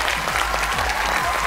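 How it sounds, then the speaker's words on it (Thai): An audience at a Thai innovation awards show held at a university claps in a short dense burst, loud and steady with a low hum underneath. "ผมขอเสียงปรบมือดังๆเลย"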